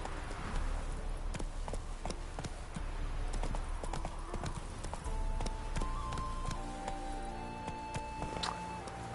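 Horse hooves clip-clopping at a quick gait in The Witcher 3, a rapid stream of sharp close hoofbeats over a low rumble, with faint tonal game sounds near the end.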